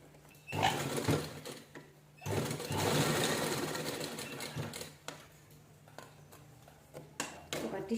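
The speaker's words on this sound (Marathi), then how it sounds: "ह्याच्यावर स्टिच करून घेऊया आपण व्यवस्थित एकसारखं स्टिच करून घ्यायचं" A sewing machine stitches cloth in bursts of rapid mechanical clattering, with short pauses between runs and someone speaking alongside.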